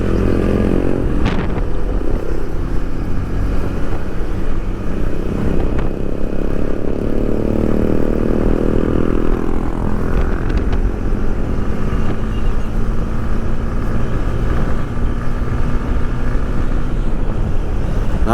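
A Honda CB150X motorcycle engine while riding, sounding somewhat rough, with a loud, steady drone and shifting pitch over continuous wind rush, close and sustained without a break.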